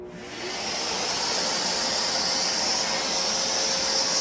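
A dust-collecting vacuum attached to a drywall sanding pole roars steadily with a broad hiss close by as it sucks in ceiling dust, with no talking.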